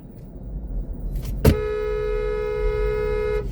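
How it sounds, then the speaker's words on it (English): A single loud car horn blast sounds close by in San Antonio, Texas traffic and holds steady for about two seconds over low traffic rumble. "Oh, they're honking at me?"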